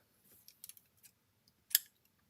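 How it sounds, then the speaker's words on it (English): Scissors snip paper while a folded greeting card is being made, with a few quiet, close clicks and one sharper, louder cut near the end in an otherwise silent room. "Snip that off."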